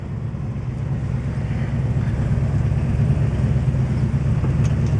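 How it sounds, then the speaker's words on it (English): A 1967 Chevrolet Chevelle SS engine idling after a test drive, a steady low rumble that holds even and loud throughout, with no voices. "Let this thing sit and idle here."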